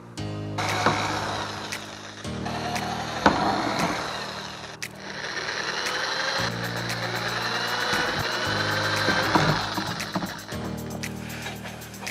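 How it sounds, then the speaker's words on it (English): A power drill spins up and bites into Ford Bronco fender flares in several bursts, grinding and whirring close by with short pauses between holes. "Alright, let's drill some holes."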